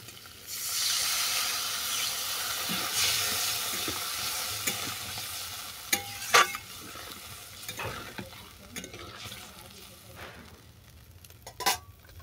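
Taro and potato cook in a pan with spice paste and water, a continuous sizzling hiss with repeated scraping clicks of a stirring utensil against the pan.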